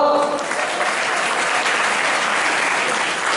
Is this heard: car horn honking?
no